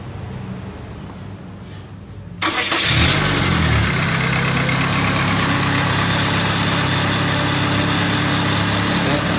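A Peugeot 206 with a wiring fault, stuck with the lamp and engine indicator lit, cranks over after a quiet stretch, catches, and settles into a steady, loud idle that runs without a break to the end.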